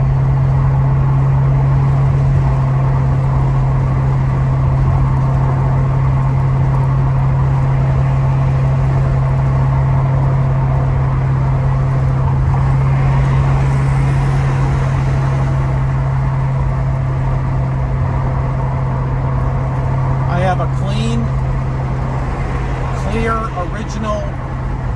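A 1967 Ford Mustang cruises at about 50 mph, giving a steady, loud engine drone with constant road and wind noise throughout and a brief mechanical rattle near the end.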